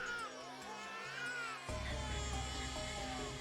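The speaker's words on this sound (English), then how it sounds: "it was the sound of a baby crying" Wailing cry like a cat in heat, actually a baby crying, in the video game Chaos;Child: wavering high-pitched moans repeating over low music, with a deeper rumble joining partway through.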